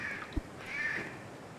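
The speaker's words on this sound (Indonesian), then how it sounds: "Ada burung gagak" A crow caws once in the Barn Finders video game, a single short call over a dim ambient background, moderately close.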